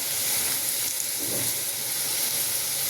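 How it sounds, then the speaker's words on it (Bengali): Panch phoron five-spice and a dried red chilli crackle in hot oil left from frying potatoes, a steady close sizzle with fine popping throughout, no voices. "আলু ভাজা তেলে 5 ফোড়ন আর একটা শুকনো লঙ্কা ফাটিয়ে দিয়ে দিলাম।"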